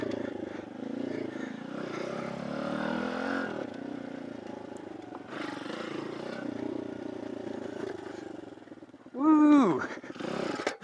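Tao Tao DBX1 dirt bike running steadily in second gear at modest speed, a continuous engine drone close by, with a voice calling out briefly near the end.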